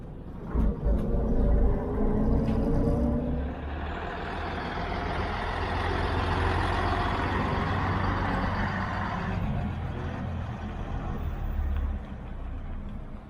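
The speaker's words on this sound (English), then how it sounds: "So there is the other bus." A bus passes on the road into Matlock Bath in the Peak District, its low engine rumble swelling, holding steady, then easing away, with no talk.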